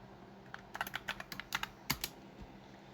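Keys clack on a computer keyboard in a quick irregular burst of a dozen or so close taps, alone against a low background hum.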